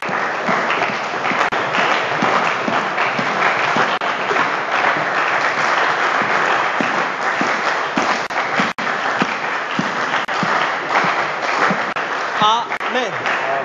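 A church congregation applauding, a dense, sustained round of clapping from many hands, loud and steady for over ten seconds with some voices mixed in.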